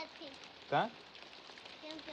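Rain patters with a soft, steady hiss at a temple cowshed. A voice briefly speaks or calls out partway through.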